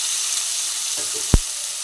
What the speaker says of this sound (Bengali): মশলাটা কষাতে কষাতে এর মধ্যে তেল ছেড়ে আসছে এই সময় এই আলুগুলোকে এর মধ্যে দিয়ে দিলাম